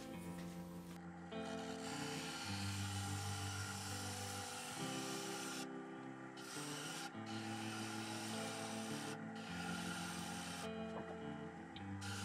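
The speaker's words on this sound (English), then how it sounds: "I'll use a skew chisel to create some grooves" A skew chisel cuts grooves into a wooden platter, turned from scraps, spinning on a lathe: a continuous loud rasping, rubbing scrape with a steady motor hum, swelling and dropping in intensity as the tool engages and lifts off the wood.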